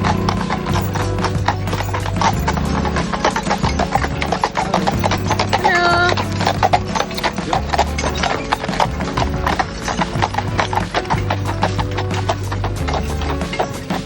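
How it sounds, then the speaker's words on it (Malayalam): Horses walk on a hilltop lined with stables in Germany at sunset. Their hooves clip-clop loud and close in a steady, overlapping rhythm with sharp wooden-sounding knocks throughout. "ഈ കുന്നിൻ മുകളിൽ ഒരുപാട് കുതിരലായങ്ങൾ ഉള്ളതുകൊണ്ട് തന്നെ കുതിരകളെ കാണുന്നത് സാധാരണമാണ്."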